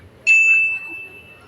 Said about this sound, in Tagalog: Isa pang doorbell.